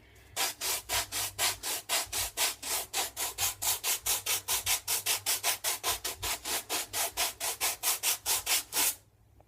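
Rapid, steady scraping strokes of a Pedi-Rock foot pumice stone rubbed back and forth over dry skin on a foot, about thirty rough rasps in a row, close and fairly loud.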